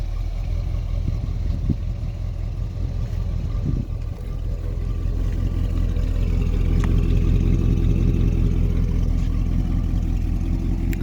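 A 1975 Ford Fairlane engine idles nearby with a steady low rumble, then its note rises a little as it runs on, with a few faint clicks over the constant drone.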